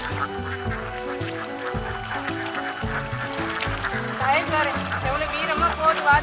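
Ducks quacking and honking in a busy outdoor scene, with people talking loudly over and between the calls.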